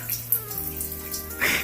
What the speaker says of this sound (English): When I turn the sink on, the shower works.